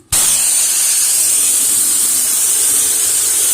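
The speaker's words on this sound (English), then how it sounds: "I keep my X-Jet on fan, and then I keep the nozzle far enough away to not be putting high pressure onto the wood" Pressure washer with an X-Jet nozzle on fan setting sprays a house's wooden surface, bursting on abruptly into a loud, constant hiss that holds without pause.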